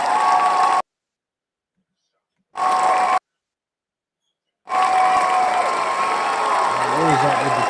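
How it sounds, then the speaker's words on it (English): A crowd at an NBA game between the Utah Jazz and Minnesota Timberwolves cheers and applauds in a steady broadband roar, cut by two silent gaps, with a voice heard toward the end. "What is up with the cheering?"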